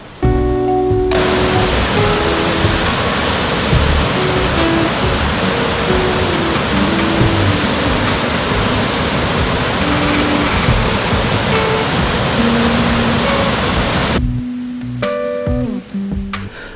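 Valara waterfall in Munnar, Kerala roars in a loud, steady broadband rush of falling water, continuous and close, dropping away briefly near the end.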